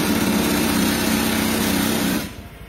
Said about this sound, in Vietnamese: Nổ máy lên ta đo.